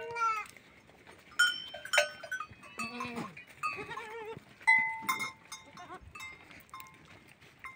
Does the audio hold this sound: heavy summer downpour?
no